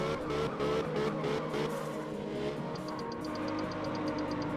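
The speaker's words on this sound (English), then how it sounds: "let's slam on the handbrake here, and then full." Car engine in the video game Absolute Drift, revving and whining while sliding after a handbrake turn, steady and loud with a rising tone and faint beeping near the end.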